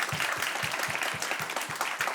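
Brief burst of audience applause at a French dating-show style event, a crowd clapping in quick uneven rhythm to vote for a couple, steady and fairly loud with no voices over it.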